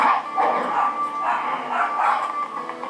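Dog barking in the Sonic 06 video game, a run of repeated yapping barks in a steady rhythm, fairly loud and close, continuing for the whole stretch.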